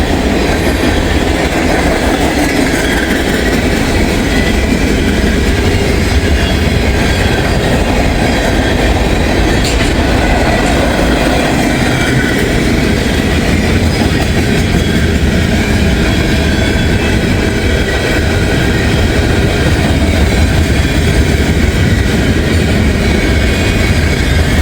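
Train rolling past after rain, a loud sustained rumble with clattering wheels and faint squeal heard up close, continuous throughout with no voices.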